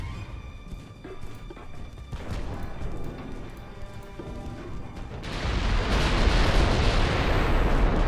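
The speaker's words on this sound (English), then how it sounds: "Oh, that's a broadside." A warship fires a broadside in Ultimate Admiral Dreadnoughts: scattered heavy gun reports and crashes, then a sustained roaring surge of massed gunfire and explosions swelling louder toward the end.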